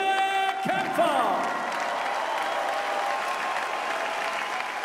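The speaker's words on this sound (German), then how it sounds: "Meine Damen und Herren, nochmal einen großen Applaus für beide Kämpfer." Audience applause fills a boxing arena after a professional title fight, a dense steady wash of clapping that holds for several seconds after a brief sharp sound at the start.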